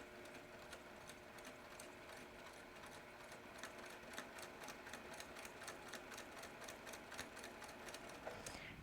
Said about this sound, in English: I'm going to put that down and I'm going to start sewing.